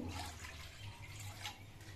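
Water pours steadily into a pan for making batasa pitha, a continuous faint splashing trickle with no talk.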